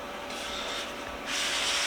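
A rag wipes excess oil off a freshly restored hand saw, making a steady close cloth-on-metal rubbing hiss that grows louder near the end, with no voices.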